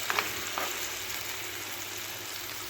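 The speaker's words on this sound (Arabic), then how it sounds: "وبعدين احط الصلصه كده وهسيبها تتسبك" Tomato sauce sizzles and simmers in a pan for a Middle Eastern stuffed potato dish, a steady fine crackle close by with a couple of brief clicks near the start.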